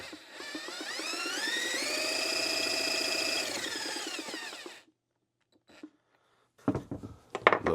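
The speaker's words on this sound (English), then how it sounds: "ahead and just spin this engine up, make sure everything's working free." A 2004 Suzuki RM-Z250 engine with its bottom end rebuilt is spun up, a whirring whine that rises, holds steady for a few seconds and winds down, followed by silence and a few close clanks and handling knocks.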